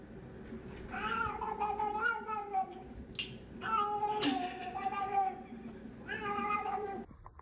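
A cat meows close up in a run of long, drawn-out, wailing cries, loud and insistent, with short pauses between them.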